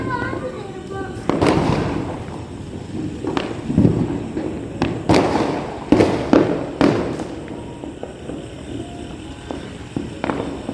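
Diwali fireworks and firecrackers burst at a rooftop celebration at a new house, several sharp cracks over a constant crackling din of distant bangs, with voices talking in the background.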